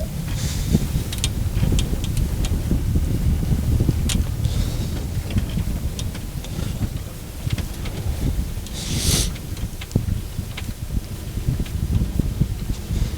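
Strong wind blows across an open-water rowing course during a collegiate lightweight men's race, a constant heavy rumble and buffeting close to the microphone with brief gusty surges and no voices.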